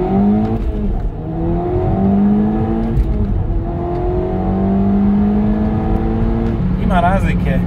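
Audi S3 with a 2.0 TFSI engine and aftermarket downpipe accelerating hard on an open road, a steady loud engine drone with rising harmonic sweeps through the gears, continuous and close throughout.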